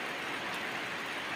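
Autumn rain falls in Assam as a steady, soft broadband hiss with no gaps, fairly faint and even throughout.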